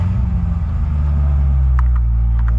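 A 2009 Corvette ZR-1 engine runs with a deep, loud rumble close by, holding a steady idle throughout with a few faint clicks near the end.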